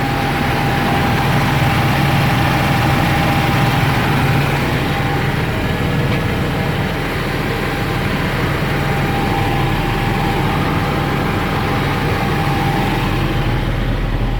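A Massey Ferguson 7490 Dyna VT tractor from 2008 with a Sisu engine idles with a steady, continuous low rumble and hum, close and unchanging throughout.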